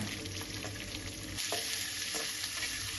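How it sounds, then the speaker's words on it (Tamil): Onions and curry leaves frying in a pan for a traditional Coimbatore sandhagai dish, a steady close sizzle with a few soft stirring scrapes, no voices. "பாருங்க வெங்காயம் நல்லா வணங்கட்டும்"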